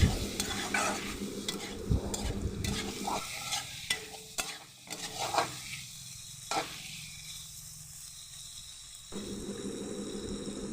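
Taro stems fry in a pan with a loud, steady sizzle, broken by scraping stirs and a few brief quieter gaps. No voices are heard.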